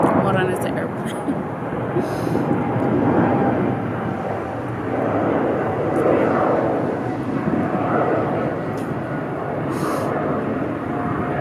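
An airplane passes overhead as a broad, steady rumble that swells and fades gently across the clip, with a person talking over it outdoors.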